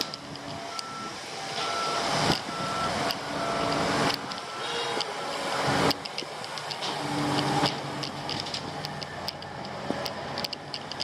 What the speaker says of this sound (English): Now the dump truck is leaving.